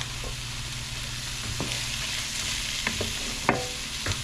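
Garlic sizzles in a frying pan as a bok choy and pork chop dish cooks, a steady quiet frying hiss with occasional small clinks and stirring clicks; no talking.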